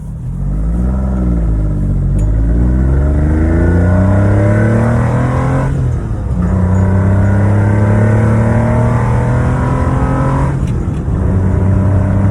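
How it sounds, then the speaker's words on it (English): The Maserati V6 engine of a Citroen SM revs hard three times, loud and close, its pitch climbing with each rev before dropping back. Nobody speaks. "Final treat, let's hear that Maserati V6."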